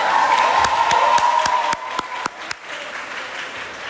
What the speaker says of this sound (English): Please give yourself a huge round of applause for being such an enthusiastic audience.